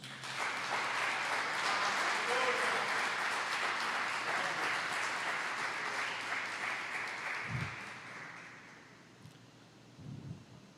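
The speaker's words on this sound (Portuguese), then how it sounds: "Aplauda Jesus" A church congregation at a pastors' and leaders' gathering applauds in a broad, steady wash of clapping that sounds distant and fairly soft, gradually tapering off with a couple of low thumps near the end.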